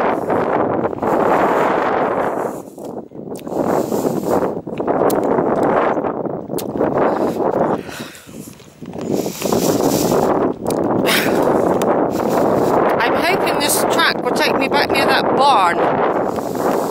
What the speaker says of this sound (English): Getting windier.